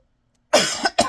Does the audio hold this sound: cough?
yes